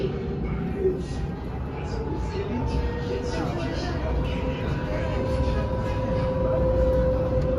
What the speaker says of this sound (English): That's a tram.